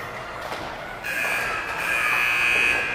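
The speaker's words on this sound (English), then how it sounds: "Blowing the buzzer." A long, steady electronic arena buzzer at a youth hockey game blares from a distance in a big echoing rink, sustained for a couple of seconds over faint crowd ambience.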